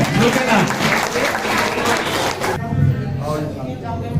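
Applause from a crowd at a Ravidas Jayanti community gathering, a dense steady patter of clapping that runs for a few seconds and then thins, with voices mixed in underneath.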